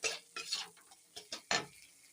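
Cauliflower curry is stirred in a pan, with intermittent scraping and clinking strokes from a utensil in quick bursts. A soft frying hiss sits beneath them.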